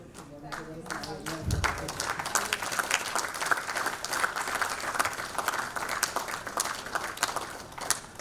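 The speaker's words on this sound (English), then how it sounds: "Let's put our hands together and give him a round of applause." An audience at an iconic women awards evening in Sri Lanka breaks into sustained applause that carries on steadily, with talk faintly in the mix early on.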